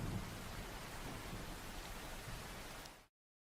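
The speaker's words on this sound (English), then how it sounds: "I am going to let you all chill out to the pleasant sound of the rain" Steady, dense rain hiss in a racing simulator game, broadband and continuous at moderate level with a faint low rumble, heard alone before cutting off abruptly.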